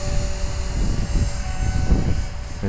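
A 450-size radio-controlled helicopter flies nearby with a steady, loud rotor whir and a pulsing engine whine throughout, with no voices.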